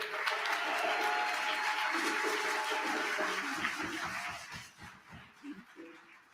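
Applause from the audience at a Malcolm X tribute event, honoring Frederica Newton, widow of a Black Panther Party co-founder; steady clapping with some voices mixed in, thinning and fading out over the last couple of seconds.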